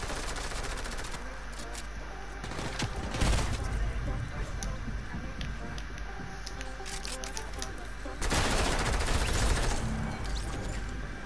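Rapid automatic gunfire from a bomb-defusal style multiplayer shooter game mode, dense bursts filling most of the clip with louder volleys around the middle and end, layered over game noise with no clear talk.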